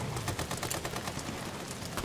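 Gunshots in the video game Amnesia: The Bunker, a rapid series of fairly quiet shots in quick succession, with a voice talking over them.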